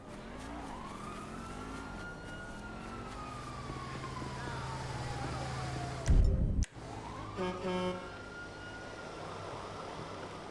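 Police sirens in the video game GTA 5 wail in rising and falling sweeps over a steady engine and road rumble, broken by a loud crash-like burst midway before the siren tones return.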